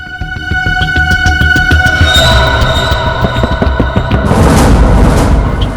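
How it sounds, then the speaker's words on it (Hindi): Repeated dull knocking thuds from something inside a water tank, in a steady rhythm, loud and close, over a sustained droning tonal hum. "किसी चीज के ठोकने की आवाज है सर। पानी का टंकी के अंदर कुछ लग रहा है।"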